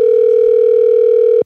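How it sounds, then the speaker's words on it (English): A steady telephone dial tone hums loud and unbroken for about a second and a half, then cuts off abruptly, heard just before a phone call is placed. "let me make this phone call"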